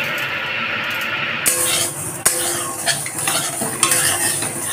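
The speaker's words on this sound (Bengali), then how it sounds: "মুগের ডালটাকে প্রথমে শুকনো কড়াইতে ভেজে নেব" Moong dal being dry-roasted in a dry wok (kadai) over low flame: steady scraping and stirring of the lentils with a utensil, scattered close clicks and knocks against the pan, no talk.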